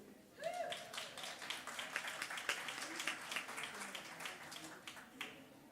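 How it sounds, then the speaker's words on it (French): Audience applauding at a live stage show, steady moderate clapping of a mid-sized crowd heard at some distance, with a few voices rising briefly under it. "Les gens applaudissent"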